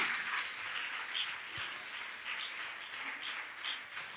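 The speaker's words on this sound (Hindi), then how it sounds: "तालियां आपकी बजती ही रहना चाहिए।" Audience applause at a Jain spiritual gathering, a question-and-answer session with a monk at Gunayatan, Shikharji in Jharkhand: steady, even clapping from a crowd that holds for the full stretch at moderate distance, with no one talking over it.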